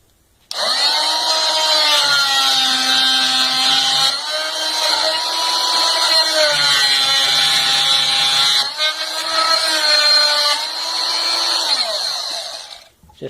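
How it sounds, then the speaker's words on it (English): An oscillating multitool saw blade plunges into an old wooden fence board with a loud, high buzzing whine, running in sustained bursts whose pitch dips under load, with brief pauses between cuts. "I'm simply going to do a couple of plunge cuts through here to see how well it works"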